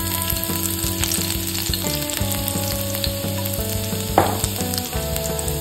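Chopped garlic sizzling in hot oil in a pan, a steady close crackling fry with a brief stir or clatter partway through, no voices.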